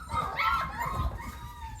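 Puppies at an outdoor play area bark and yip in short, high, excited bursts, fairly close, over faint background noise.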